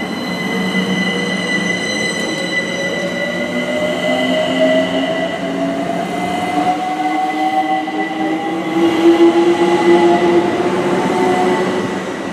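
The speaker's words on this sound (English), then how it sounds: "actually coming in now, as you can see, is going to be the 1302 London Overground service to Watford Junction" A London Overground service bound for Watford Junction pulling into South Kenton station, with a loud, steady rumble of the train and wheels squealing in rising, whining tones as it slows. No one talks.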